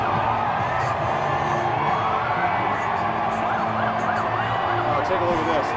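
An excited crowd lines the road by a motorcade at a rally in Freedom Plaza, a dense continuous din of cheering, whoops and shouts with scattered voices close by.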